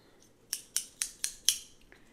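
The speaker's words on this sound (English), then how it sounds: "I got my scissors." Scissors snip five times in an even rhythm, close and crisp, during a roleplay haircut, with one fainter snip trailing after a short pause over near silence.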